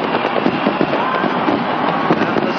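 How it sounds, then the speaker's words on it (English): Fireworks pop and crackle over the stadium at Game 5 of the 1979 World Series, Orioles at Pirates, a dense, loud stream of bursts with a faint crowd underneath. "The fireworks go off."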